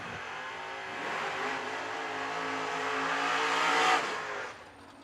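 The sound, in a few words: drag racing cars, Camaro and Chevy Nova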